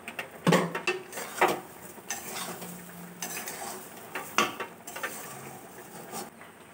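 Cumin powder and ginger paste fry in a little oil for a vegetarian dalia khichdi, a faint sizzle broken by irregular scraping and clinking of a spoon stirring against the pan, close and quiet.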